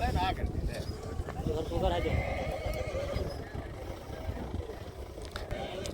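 A mare whinnies and neighs while her hooves clip-clop along as she walks, with people talking nearby throughout.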